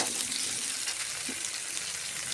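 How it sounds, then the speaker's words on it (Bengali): Potato and papaya pieces frying in a pan give a steady, close sizzle with dense crackle that holds evenly throughout. "আলুর সাথে পেঁপের সাথে একটু ভাজা ভাজা হবে।"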